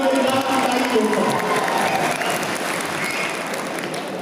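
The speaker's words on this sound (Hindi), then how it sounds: "तालियां बजाइए ताकि मेरी बात की तारीफ हो पाए।" Audience applause at an All India Mushaira poetry gathering, a dense steady clatter of many hands from a large crowd, fading slightly toward the end, with voices faintly mixed in.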